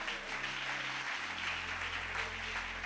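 A church congregation applauds, a steady, continuous wash of clapping from a large crowd that holds evenly for a few seconds.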